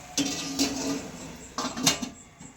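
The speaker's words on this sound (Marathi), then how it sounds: "तर आपण आता याला झाकून ठेवूया" A metal lid clinks down onto a cooking pot of greens, two pairs of bright ringing clanks close up, one near the start and another a second later, then quiet.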